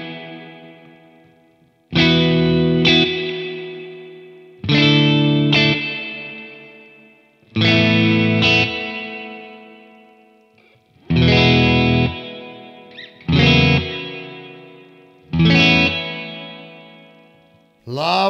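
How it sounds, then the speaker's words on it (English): Electric guitar played through an MXR plate reverb pedal: seven short, sharp strummed chords spaced evenly, each ringing out in a smooth, decaying reverb tail before the next. "Lovely plate reverb."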